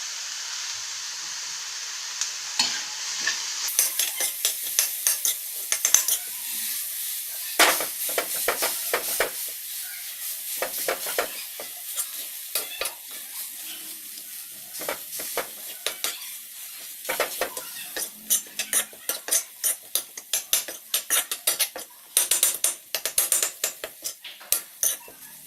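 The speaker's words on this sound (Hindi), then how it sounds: "गरम मसाला डाल देते हैं और अपने आलू भी डाल देते हैं। इसको हल्का सा फ्राई करेंगे।" Potatoes with garam masala lightly fry in a pan for a vegetable filling, with a soft steady sizzle under repeated scraping and clinking spoon strokes that grow busier and louder toward the end.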